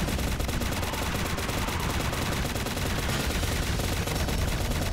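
Dense, continuous gunfire in Shadowgun Legends, a steady loud barrage of rapid shots with no pauses, filling the whole stretch without any talk.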